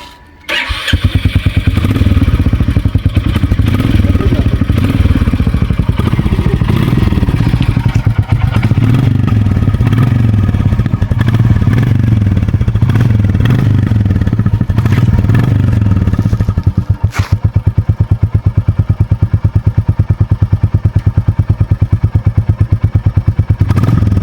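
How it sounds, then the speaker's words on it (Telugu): A Royal Enfield Classic 350 Stealth Black motorcycle starts on its stand and settles into a loud, steady thumping idle, close by, running alone for over twenty seconds. "ఒకసారి ఇంజన్ బీటింగ్ వినిపించు అని అడుగుతారా?"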